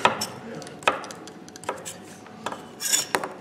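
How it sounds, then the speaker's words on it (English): A knife chopping vegetables into bite-sized chunks for a winter soup, sharp irregular clicks of the blade on a cutting board with clattering between cuts, close and clear with no talk. "And then I cut each of these this way and cut them in chunks"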